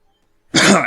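After a moment of silence, a single harsh, close cough bursts out, rough and throaty.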